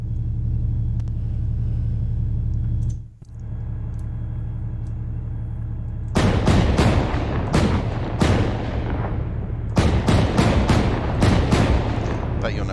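In Arma 3, a vehicle's main gun fires several sharp, booming shots in irregular succession over a constant low engine rumble.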